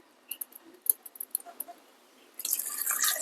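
Water is poured into jaggery while making ragi halwa: scattered soft drips and small splashes, then a steady, louder pour that runs to the end.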